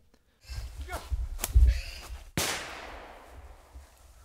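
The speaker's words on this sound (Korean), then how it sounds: "사냥개 짖는 소리와 총소리가 들리더니" A few short outdoor noises on a mountain wild boar hunt, then a single sharp shotgun blast rings out and echoes away into the distance.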